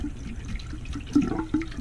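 Water from a well pipe gurgles and splashes back out under the last of the tank pressure, a close, uneven trickle with a couple of louder surges.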